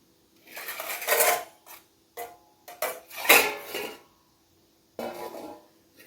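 Metal dishes and utensils clatter and clink in several separate bursts with short silent gaps between them, close and fairly loud, with no one speaking.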